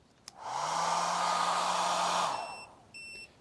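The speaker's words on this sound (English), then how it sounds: "So the hairdryer's on." A small travel hair dryer running from an ALLPOWERS R600 portable power station whirs loudly for about two seconds with a steady airy roar, then winds down, followed by faint electronic beeps.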